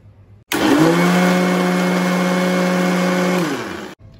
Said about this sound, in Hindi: आता मी हे मिक्सर मध्ये मिक्स करून घेते.